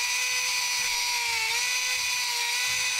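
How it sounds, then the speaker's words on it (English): A tungsten grinder spins a diamond wheel inside a small slot, giving a loud, continuous high-pitched whine that holds steady throughout with only a slight dip in pitch midway. "This is my tungsten grinder. The diamond wheel inside that little slot."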